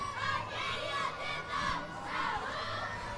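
A crowd of child cheerleaders at a holiday Christmas parade cheering and screaming together outdoors, a loud, continuous shrill mass of young voices rising and falling in waves.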